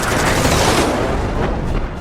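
Aircraft machine gun fire in a dogfight, a loud dense roaring burst of rapid shots lasting about two seconds.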